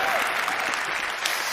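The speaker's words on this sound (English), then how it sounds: "if you guys could just clap your hands a little bit more" A TED talk audience claps steadily, a dense, even wash of many hands filling the hall without a break.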